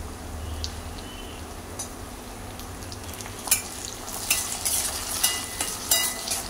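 Onion and chopped green chili frying in a pan as tomato goes in for a Punjabi rajma, a steady soft sizzle with stirring scrapes and clatters that grow louder toward the end, no talking.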